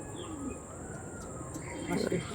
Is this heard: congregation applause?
no